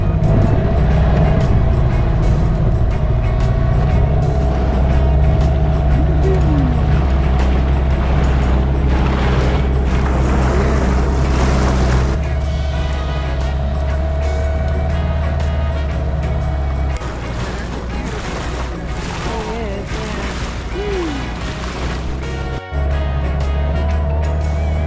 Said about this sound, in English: Beautiful dinghy ride, huh?